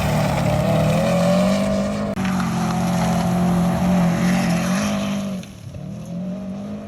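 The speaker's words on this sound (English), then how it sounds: "we go to this gravel road and we're taking rips uphill" A car driving fast uphill on a loose gravel road, its engine droning loudly and steadily at high revs with a brief drop in pitch near the end, close and without talking.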